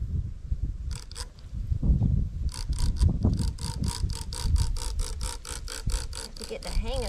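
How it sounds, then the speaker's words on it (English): A spray bottle spritzes bleach onto a t-shirt in a rapid series of sharp hissing squirts, about fifteen quick pumps, the first few hesitant and then a steady rhythmic run, with soft handling noises and low talk underneath. "First time using the spray bottle, so y'all are learning with me."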